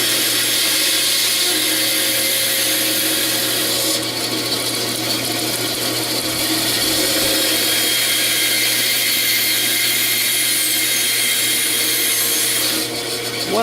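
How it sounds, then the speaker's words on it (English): A saw cuts steadily and slowly through one-and-a-half-inch-thick hardwood, making a relief cut in a continuous loud rasping grind with a low steady hum underneath and no pauses. "So I'll do a relief cut here."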